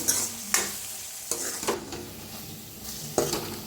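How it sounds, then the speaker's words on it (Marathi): Spice masala with turmeric, coriander powder, red chili powder and green chili roasts in hot oil, a continuous sizzle broken by repeated spoon scrapes and clinks against the pan as it is stirred, with no talking. "आता मिक्स करून छान असं भाजून घेऊया"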